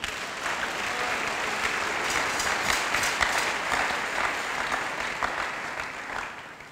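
A church congregation applauds in a dense, continuous wash of clapping that holds steady and fairly loud throughout, with no voices standing out.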